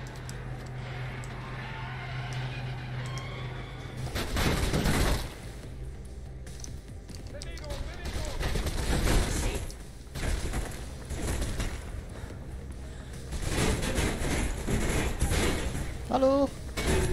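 Gunfire in the video game Mirror's Edge inside a corporate office building, with repeated loud bursts and booms across the clip, mixed with game effects and someone talking over it.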